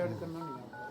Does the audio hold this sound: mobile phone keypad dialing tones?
yes